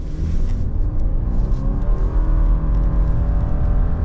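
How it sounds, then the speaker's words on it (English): A 2024 Subaru Forester Wilderness, naturally aspirated, pulls hard from a stop to 60 mph in sport mode with traction control off. The engine note climbs steadily and loudly from inside the cabin, with no one talking. "here's that 0 to 60"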